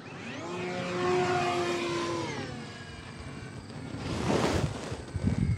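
An E-flite Beechcraft D18 RC model airplane, a 1.5 m twin-engine scale model, drones overhead just after takeoff. The tone rises and shifts as it climbs, with wind gusts swelling toward the end.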